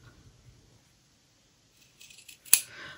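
Scissors snip off the corner of a sewn fabric heart coaster, a sharp close cut with a brief metallic clack, preceded by light rustling and surrounded by near silence.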